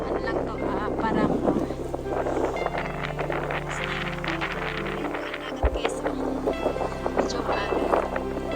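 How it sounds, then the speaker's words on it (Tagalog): Steady wind blows across a seaside fishing park in Shimonoseki on a cold day, a constant broadband rush with low rumbling buffets on the microphone, while faint voices and boat or water noise sit underneath. "Ang lamig na po ng panahon, mahangin pa."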